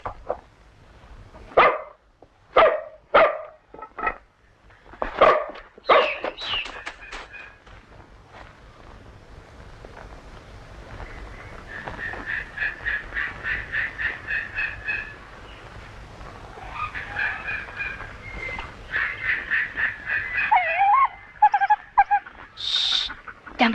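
A hunting dog in a forest setting barks in a series of sharp, close calls during the first seconds, followed by a stretch of steadier calling and yelping, with no talk over it.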